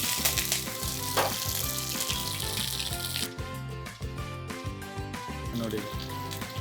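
Green chili paste sizzles and fries steadily in about 150 ml of hot coconut oil, a loud continuous crackle with occasional stirring scrapes close up.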